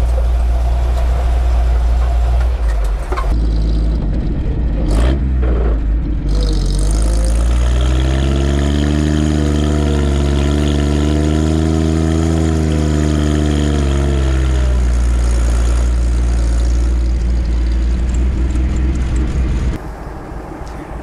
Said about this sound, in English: What a fantastic vehicle to drive. The Volvo 912.